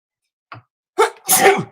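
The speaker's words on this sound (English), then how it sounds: "oops, that was just a sneeze, okay?" A single loud sneeze preceded by a short sharp intake of breath, close and abrupt, with no talking around it.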